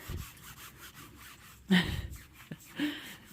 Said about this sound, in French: On est en pleine gratouille là.